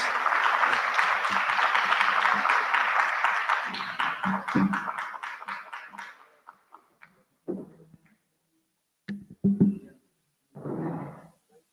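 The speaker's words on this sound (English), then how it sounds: "A big round of applause for our eminent speakers" An audience at a conference panel session gives a round of applause for the speakers, dense clapping for several seconds that thins into scattered claps and a few final bursts.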